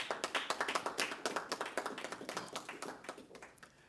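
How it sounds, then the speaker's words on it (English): A small group at a government press conference applauds the head table and support staff, with distinct, fairly quiet claps in a quick uneven rhythm that gradually thin and fade. "I would like for us to give a round of applause to the head table and the team that supports them"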